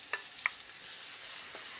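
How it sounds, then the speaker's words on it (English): Faint, steady sizzling of aromatics frying in a hot wok, with a couple of soft scraping clicks from stirring. "Gotta love that sizzle"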